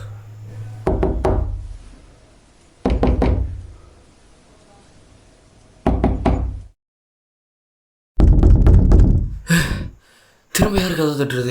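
Loud knocking on a door arrives in several separate bursts of quick raps, close and heavy, with gasps and other sounds between the bursts.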